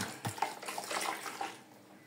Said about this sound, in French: J'ai fait couler de l'eau